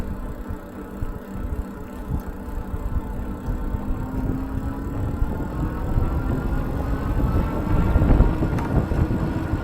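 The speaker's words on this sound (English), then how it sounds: "the noise of the motor sounds lower on kind of the spectrum" Rear hub motor of a Mokwheel Basalt ST 2.0 e-bike straining up a steep trail section, a low droning whir rising slowly in pitch beneath wind and tire rumble, close and continuous with no talking.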